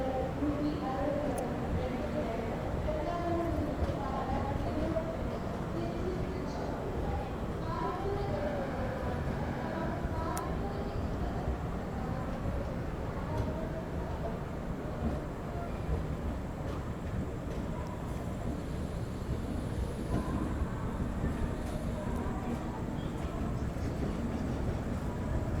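Heard from on board, the Ahilya Nagari Express passenger train runs with a steady low rumble and rattling track clatter that hold at a constant moderate level for the whole stretch.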